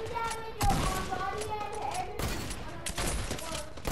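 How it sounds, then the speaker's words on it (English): Lever action sniper rifle fired in the Fortnite video game, with sharp broadband shots near 0.6, 2.2 and 2.9 seconds over busy game sound and ongoing chatter. "It's a lever action sniper rifle."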